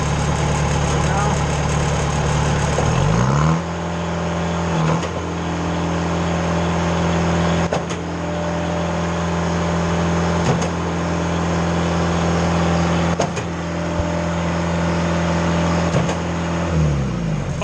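A Mayco LS-40 concrete pump runs with a steady mechanical drone that is interrupted by a few sharp, regular stroke changes. The sound stays loud and close throughout, and a voice can be heard faintly in the background.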